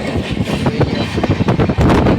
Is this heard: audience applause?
no